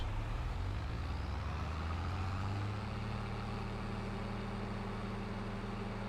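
In the Farming Simulator 22 video game, a car drives past as a faint, steady engine rumble. The low drone eases off partway through, with no speech.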